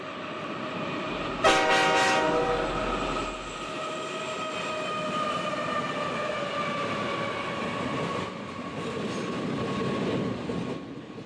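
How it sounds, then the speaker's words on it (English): A train on the main line thunders past with a steady rumbling roar, heard from inside a model railroad building, a loud horn blast near the start, then continuous rolling noise and rising clatter toward the end. "we can always still hear the trains passing by as they thunder through on the main line"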